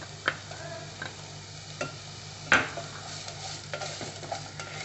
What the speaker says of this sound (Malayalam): ഇത് ഒരു 2 മിനിറ്റ് നന്നായി ഒന്ന് വഴറ്റിയെടുക്കണം.